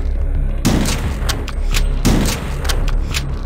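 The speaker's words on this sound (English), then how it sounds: "It's HROT's super shotgun." Two heavy blasts from the super shotgun in the video game HROT, each a loud booming shot with a short decaying tail and mechanical reload clicks between them.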